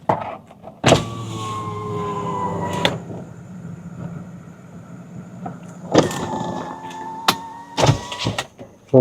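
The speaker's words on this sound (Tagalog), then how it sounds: "Binuksan ko lang yung bintana." A car's power window motor whirs steadily as the window is lowered, with clunks at the start and end of the travel, then a second short whir and a few knocks, close and fairly quiet.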